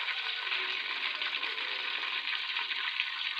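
Onions frying in hot ghee inside a pressure cooker, a loud, steady broadband sizzle that stays even throughout.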